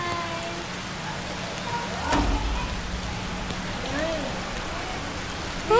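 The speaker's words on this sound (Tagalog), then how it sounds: "It's been raining in Bataan." Rain falls steadily in Bataan, a soft, even hiss of drops that fills the whole clip, with faint voices and small bumps mixed in underneath.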